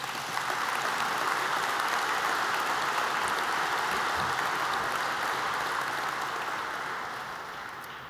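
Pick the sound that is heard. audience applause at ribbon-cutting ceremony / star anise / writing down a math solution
audience applause at ribbon-cutting ceremony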